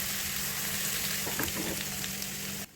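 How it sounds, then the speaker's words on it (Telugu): Ginger garlic paste frying in hot oil for a seelavathi pickle, a steady close sizzle with a few brief bubbling pops, cutting off abruptly at the end. "ఈలోగా నూనె వేడెక్కి ఉంది కదా, దీనిలో 3 చెంచాల అల్లం వెల్లుల్లి పేస్ట్ని వేసుకోవాలి."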